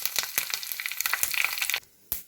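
Mustard seeds, chilli and curry leaves sizzle in a spoonful of hot oil for a chutney tempering: close, crackling spits and pops over a bright hiss, with a brief drop to near silence before a final burst.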